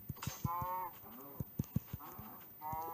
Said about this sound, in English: You know, nobody minds if I kill a cow or two,